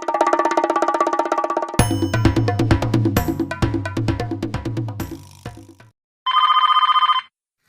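A telephone bell rings loudly in a comedy skit: one long sustained ring, then a rapid series of rhythmic bell strikes, a short gap, and a final burst of ringing.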